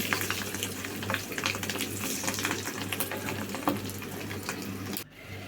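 Eggs seasoned with salt frying in oil in a home kitchen, a soft continuous sizzle with small crackles and a low steady hum underneath, ending in a brief thud near the end.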